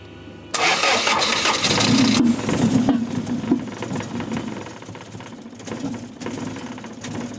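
A Toyota TE72 Corolla with a swapped 3SGE BEAMS engine cranks and catches, then settles into a loud, close, revving idle with uneven throttle blips.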